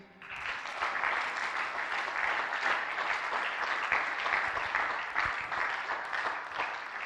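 Audience at a marriage seminar applauding to acclaim God, a dense, steady roar of clapping from many hands that continues throughout, loud and close.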